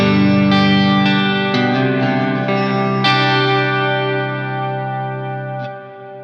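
Electric guitar played through a Mad Professor Kosmos reverb pedal, with sustained strummed chords and a few picked accents washing into a lush, lingering reverb tail that slowly fades at the end, no talking.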